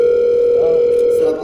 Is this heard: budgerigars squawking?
no